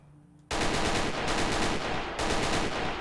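An unsuppressed AK rifle in Fallout 4 fires a loud, sustained automatic burst that starts abruptly after a short quiet lead-in, with a brief break before the rapid fire resumes.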